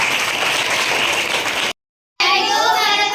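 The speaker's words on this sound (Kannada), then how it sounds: "ಚಪ್ಪಾಳೆ ಬಾರಿಸಿ." A large group of children claps in a sustained dense burst, then falls briefly silent before another loud round of applause resumes, likely after a short school play about protecting the environment.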